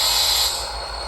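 A Rapido GP40 model diesel locomotive in Illinois Central livery, fitted with a LokSound v5 sound decoder, runs at its lowest speed step, giving a steady, close engine rumble with a bright hiss above it.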